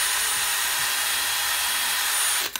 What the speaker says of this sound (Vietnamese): con 796, một con khoan mà tiêu chuẩn hiện nay